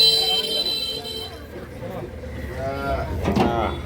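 Cows low and moo amid a busy outdoor cattle market in Dinajpur, with a louder, drawn-out call near the end and people talking nearby.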